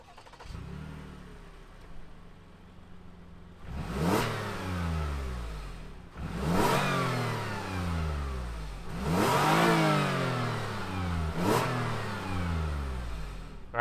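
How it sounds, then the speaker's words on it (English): A 2021 Toyota Highlander XSE AWD starts and settles into idle, then its engine is revved three or four times, each rev rising sharply and falling back, loud and close with no talking. "let's fire up this Highlander and hear what that exhaust sounds like."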